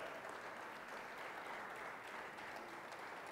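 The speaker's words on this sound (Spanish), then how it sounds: "démosle un aplauso al Señor" A church congregation applauds, giving a steady, even wash of clapping with no voices over it, quiet and distant in level.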